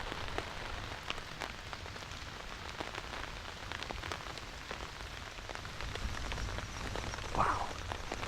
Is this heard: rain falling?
yes